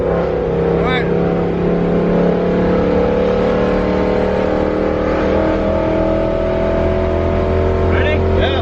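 A supercharged ESS G3R car accelerating hard in third gear, its engine a loud, steady drone with rising tones throughout, while people shout excitedly over it.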